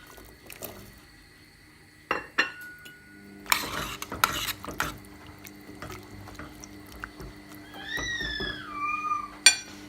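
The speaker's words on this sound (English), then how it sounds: "The next thing we're going to add in is our potatoes. And then also the asparagus." Potatoes and asparagus dropped into a soup pot, giving a few clattering thuds and scraping stirs with utensil knocks, and a faint high bird-like chirp near the end.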